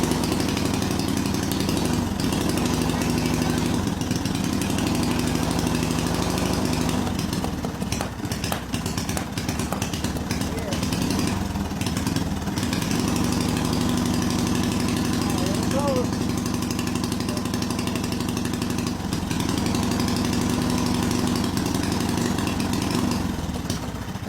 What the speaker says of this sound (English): The engine first started and then it was running kind of funny.